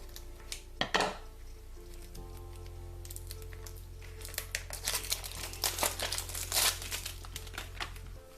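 Cardboard oracle card box, tightly packed, being worked open by hand: repeated crinkling and scraping rustles, close and fairly quiet, with sharper crackles near the start and toward the end over a low steady hum.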